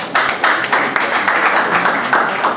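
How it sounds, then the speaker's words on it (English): An audience at a Nigerian students' association meeting in Ukraine applauds a speaker, with dense, steady clapping filling the room for a few seconds. "Please have a applause for him"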